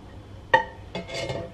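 Raw eggs for salting go into a cooking pot: one sharp hard clink, then a short cluster of softer knocks and rattles, close and brief.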